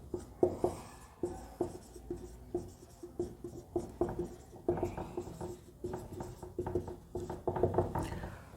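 Trigonometric ratios are written on a board with a steady series of close, scratchy strokes and taps, in short irregular bursts, with faint speech in places.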